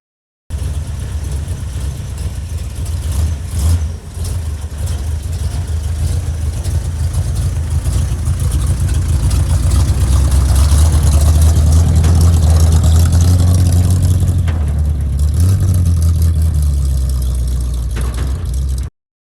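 A 1972 Ford F350 truck engine runs loud and close as it pulls out, with a steady low rumble that builds to a heavier pull around the middle, then eases off. No voices are heard.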